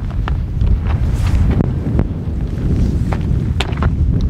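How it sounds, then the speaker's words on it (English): Wind buffeting the microphone on a day hike under clearing skies with light rain: a continuous loud rumble and rush with a few faint taps scattered through it, and no talking. "although it is windy."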